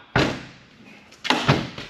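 A Toyota AE86's car door slams shut with a sharp, close thud, followed by a second pair of heavier thumps a second later, with quiet between.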